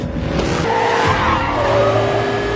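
A car speeding out of control with failed brakes skids, its tires squealing loudly and continuously over a roaring engine for a couple of seconds, close by and with no voices.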